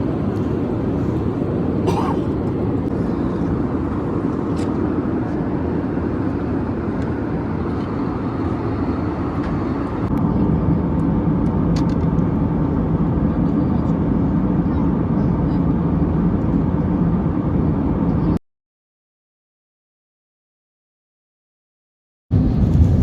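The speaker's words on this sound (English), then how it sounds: "Finally, after a flight of 5 hours, we are about to land in Delhi." Steady, loud airliner cabin roar during descent on a five-hour flight into Delhi, a broad continuous engine and airflow drone that cuts to near silence briefly near the end before resuming.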